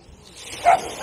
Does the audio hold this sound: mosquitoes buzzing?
no